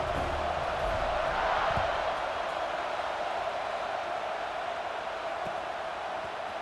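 A packed football stadium crowd roars steadily before kickoff in an LSU versus Florida game, a dense, continuous wall of cheering and noise.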